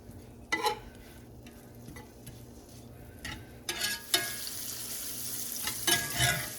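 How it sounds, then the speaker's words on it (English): Thin meat browning and crisping in a pan, sharp stirring scrapes and clicks over a quiet sizzle that grows into a louder, brighter crackle toward the end, no one talking. "It doesn't take much to get this crisped up a little bit because it's so thin."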